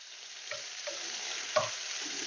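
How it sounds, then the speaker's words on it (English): Ground meat sizzles and browns in a pan with a steady crackling hiss, broken by a few soft scrapes and taps as the meat is stirred and broken apart, all at low volume without talk. "Okay, we're going to let that cook up a little bit. Start to brown up. Separate the meat as it cooks."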